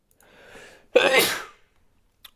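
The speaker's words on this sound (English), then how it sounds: "I cracked my hip by sneezing" One sharp, loud sneeze bursts out close by after a short breathy inhale, then the room goes quiet with a faint click at the end.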